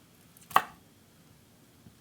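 A knife cuts the end off a garlic clove on a cutting board, giving one sharp, close chop that is followed by a faint second tap in an otherwise quiet kitchen.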